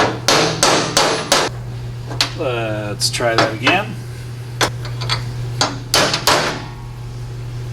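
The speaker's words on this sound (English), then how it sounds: "This is where I smash my thumb with a hammer." A hammer drives a roll pin during bump steer kit work on an LS-swapped Mazda FD RX-7: a rapid run of sharp metallic strikes, then scattered single blows, over a low steady hum, with someone briefly speaking midway.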